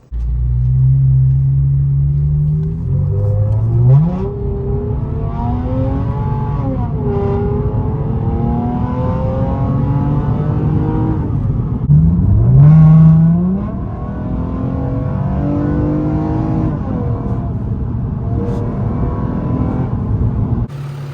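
A 2018 Lexus GS350 engine fitted with a cold air intake idles with a deep rumble, revving up sharply twice, each rise and fall loud and close.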